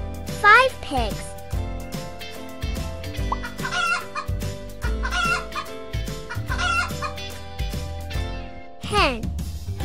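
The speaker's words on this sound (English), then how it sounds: "Hen." A farmyard hen clucks repeatedly over a bright children's music backing, the calls close and fairly loud, with a short crowing-like cry near the end.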